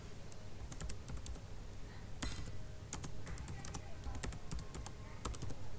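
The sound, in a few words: typing on a computer keyboard to enter data in SPSS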